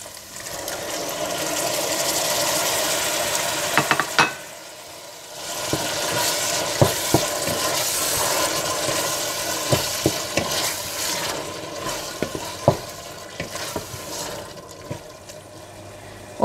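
Minced meat frying in a pan as tomato is mixed in, a steady sizzle that dips briefly, then returns with repeated spoon scrapes and clicks against the pan.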